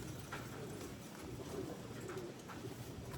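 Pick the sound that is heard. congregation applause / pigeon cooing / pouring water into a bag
pigeon cooing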